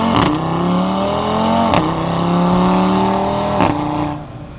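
A car engine, freshly serviced with an oil change, revs steadily and loudly during a test drive, its pitch sweeping up and down across a few gear changes, with short mechanical clunks between shifts.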